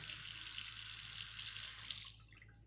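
Tap water runs steadily into a sink while someone washes their face, a close, constant hissing splash that stops abruptly near the end, leaving a few faint drips.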